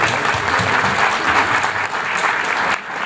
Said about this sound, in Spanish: un aplauso a los panelistas